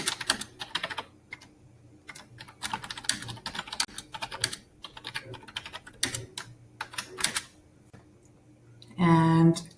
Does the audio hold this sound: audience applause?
no